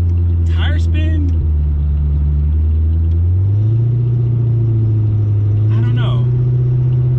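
A supercharged Coyote V8 swapped into an SN95 Mustang drones loudly from inside the car, its low engine note dipping at a shift and then climbing steadily under brief speech.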